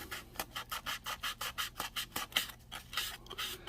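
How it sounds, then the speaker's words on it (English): Steady, rhythmic rubbing of sandpaper on a 1969 Dodge Charger R/T model car body, about a dozen light back-and-forth strokes, close up and with no talking. "Just light sanding, because there's no imperfections there"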